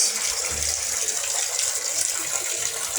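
A park fountain beside a small church dedicated to Saint Mary pours cool water in a steady, continuous rush of splashing flow, close and even throughout with no voices.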